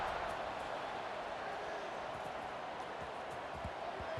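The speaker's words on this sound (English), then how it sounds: "this crowd is buzzing after that last score" A stadium crowd buzzes in the EA Sports College Football 26 video game during a fourth-quarter kickoff after a tying score, heard as a steady, dense roar of murmuring and cheering that holds throughout.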